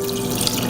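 Braising liquid from short ribs pours and drips through a strainer into a Calphalon AccuCore 2.5 quart saucepan, a steady close trickle with faint tinkling drips and no talking.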